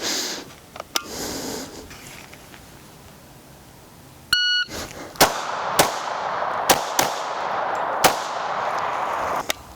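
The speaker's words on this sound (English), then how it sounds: "take us 2 shots on our left target, transition to the right, take 2 more shots, and then slow down for the gong in the middle" Heckler and Koch VP9SK pistol fired at steel targets and a gong: a quiet stretch, then a rapid string of sharp, loud shots with ringing metallic hits, spaced irregularly, followed by slower single shots.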